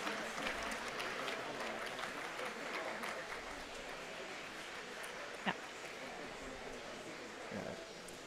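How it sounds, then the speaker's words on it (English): An audience at a card game tournament's world finals applauds its winners, a quiet, distant, continuous patter of clapping that fades slightly toward the end. "Another round of applause for our winners today."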